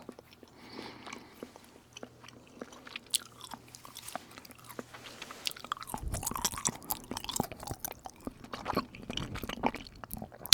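Gum being chewed right at the microphone, with soft wet smacks and clicks in an uneven rhythm, growing busier and louder partway through, with no talking.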